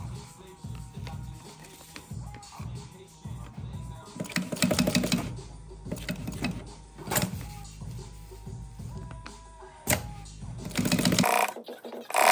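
A sewing machine stitches fabric for a 7-litre roll-down waterproof drybag, with bursts of mechanical whirring and clatter between pauses and handling noises, while a person talks through parts of it.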